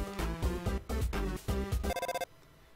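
A phone rings in the video game Undertale as a short burst of bright chiptune tones in quick repeated pulses, fairly loud, stopping abruptly into near silence.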